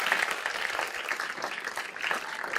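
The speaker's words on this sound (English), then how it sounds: "Let's give a round of applause for this cake." Steady applause from a small audience for a marine biology themed cake, a fairly faint, continuous patter of clapping hands lasting a few seconds.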